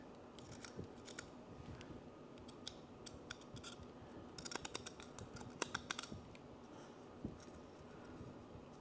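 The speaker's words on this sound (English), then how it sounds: "this part needs more trimming" Scissors snipping and trimming a part for a homemade Orea V4 coffee dripper: quick clusters of crisp, close cuts, sparse at first and denser in the middle, over a quiet room with no speech.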